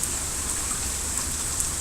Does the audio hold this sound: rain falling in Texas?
yes